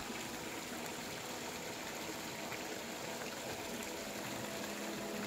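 Water in the upper reaches of the Serayu River rushes steadily as a continuous, even, broadband wash, fairly faint and heard alone without talking.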